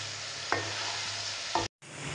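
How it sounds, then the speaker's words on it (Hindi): Chicken frying in a karahi for white karahi in a Pakistani village kitchen, a soft steady sizzle with two clear knocks of a stirring spoon, then a brief cut. "चिकन हम अच्छे तरीके से फ्राई कर लेंगे।"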